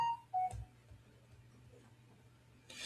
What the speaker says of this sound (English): You hear my phone blowing up because the phone was dead.